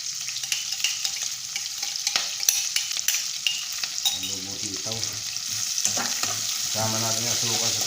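Garlic and onion sautéing in a pan for string bean adobo, a steady sizzle with frequent scraping stirs and clatter, growing busier and louder toward the end, no speech.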